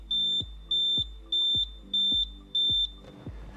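A Viqua Pro UV water disinfection system beeping after its lamp timer is reset: five evenly spaced high electronic beeps, each about a third of a second, clear and close over a faint room hum.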